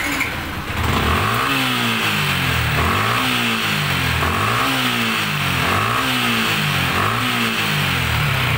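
Yamaha Sniper 155 motorcycle engine revving repeatedly up to about 7,000 RPM, a loud close rising and falling whine in steady cycles with no talk.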